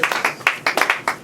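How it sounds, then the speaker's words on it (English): Church congregation clapping together in praise, loud and close, a rhythmic run of about a dozen sharp claps in quick succession. "Let's clap for Jesus."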